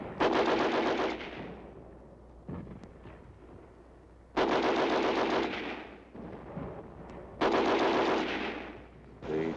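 Sustained bursts of machine-gun fire rattle through the streets of Marche, Belgium, loud and dense in three long volleys, with scattered single shots and echoing pops in the quieter gaps between them.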